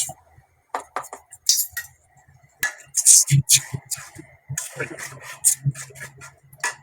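A metal spoon clinks and taps against a pot while salt is added to meat cooking for a home picnic meal, sharp irregular clicks spread across several seconds with someone talking over them.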